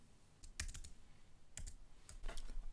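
Clicky keystrokes on a computer keyboard come in short clusters of rapid taps, close and clear, with brief pauses between bursts.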